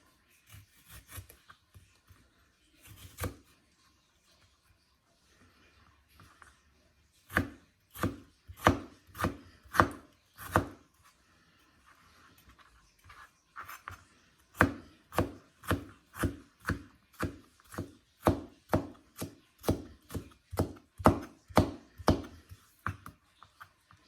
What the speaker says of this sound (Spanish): vamos a empezar picando los vegetales